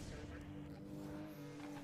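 A car in Need for Speed: Most Wanted is floored to escape a police pursuit, its engine holding a steady, strained drone under a dense mix of game sounds.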